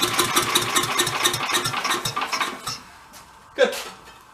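A broken 8HP vacuum engine runs at full throttle with the choke open, giving a loud, fast, pulsing roar that suddenly drops away, followed by a short sharp clunk.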